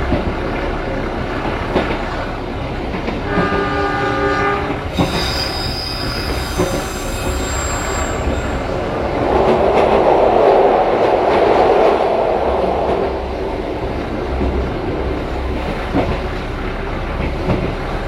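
An economy-class passenger train, KA Mutiara Timur from Surabaya to Banyuwangi, rolls along the rails with a constant rumble, punctuated by high, whining wheel squeals and a louder grinding surge midway.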